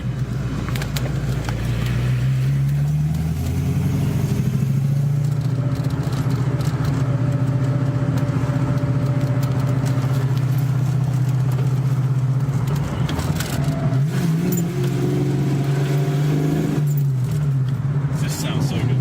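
A car with a tight short shifter and a setup ready for a supercharger idles steadily and close by, its engine swelling in a few revs near the end, with voices in the background.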